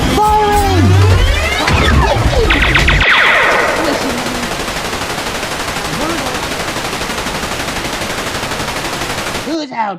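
Gunfire in a Transformers audio drama, close bursts of rapid automatic fire with echoing shots and sci-fi effects, dense and loud for several seconds before fading into a sustained rumbling wash.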